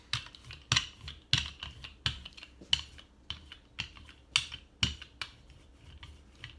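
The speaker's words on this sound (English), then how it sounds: "my brayer's a little loud" A rubber brayer rolls ink across a Gelli printing plate in a quick rhythm of repeated sticky, tacky strokes, about two per second, close and clear with no speech.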